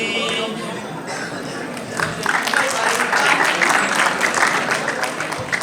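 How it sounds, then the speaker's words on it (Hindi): An audience at a mother-language day gathering breaks into loud, sustained applause, dense clapping that swells after a couple of seconds and holds throughout, with crowd murmur underneath. "जोरदार तालियां"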